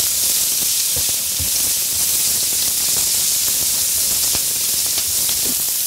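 Loud, steady sizzling and hissing of garlic scapes stir-frying in hot oil, with occasional soft clicks and scrapes in the pan.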